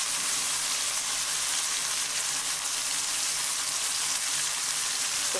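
Chicken fries in mustard oil, sending up a steady, loud, close sizzle with a constant crackling hiss and no voices over it.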